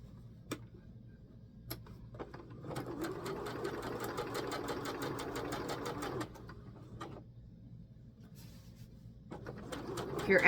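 A home sewing machine stitches in a brief run of rapid, even clicks, close by, framed by isolated taps and quiet room sound, with faint birds cooing in the background.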